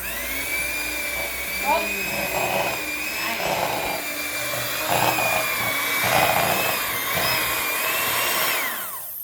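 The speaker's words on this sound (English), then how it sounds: "before we turn the mixer back on, because otherwise it's gonna spray the flour everywhere" Electric mixer whirring steadily through flour dough, a continuous high motor whine with bumps of churning, with voices talking over it until it winds down near the end.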